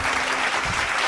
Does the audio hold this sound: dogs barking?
no